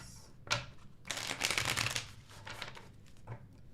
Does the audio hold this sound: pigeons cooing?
no